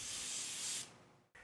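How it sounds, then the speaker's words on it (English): Steady, loud aerosol hiss of Microscale Micro Gloss being sprayed onto the body of a 1950s Chevy flatbed model truck kit, fading after about a second, followed by a short renewed burst. "I'm spraying some microscale microgloss on the body"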